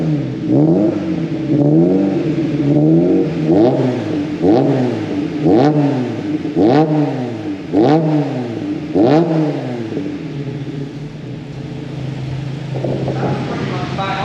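Mk1 Caddy engine fitted with twin Weber 45 carburettors, revved in about eight even throttle blips before settling to a smooth idle, close and loud with some talk.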